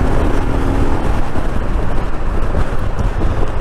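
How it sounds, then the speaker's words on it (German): A new Euro 5 Royal Enfield Himalayan motorcycle's engine drones steadily while riding in cool weather, a loud, constant rumble heavily blended with rushing wind buffeting the microphone. "Der Motor klingt schön kernig."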